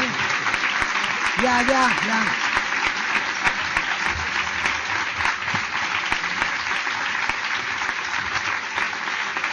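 Sustained audience applause for a novelist at the opening of a writers' meeting, a dense continuous clapping crowd throughout, with someone speaking briefly over it near the start.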